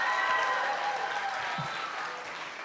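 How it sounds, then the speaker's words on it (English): A crowd applauds five finalists at a teen book awards reading: dense, sustained clapping from many hands that fills the whole moment and fades only slightly toward the end. "Can we give one more big round of applause for all of our 5 finalists?"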